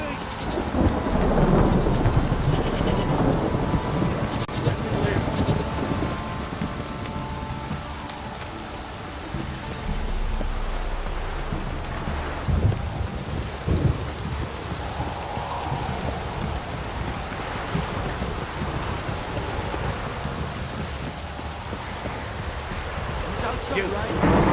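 A thunderstorm in The Witcher video game: constant heavy rain hisses while deep thunder rolls and booms repeatedly, loud near the start and fading to a steady pour.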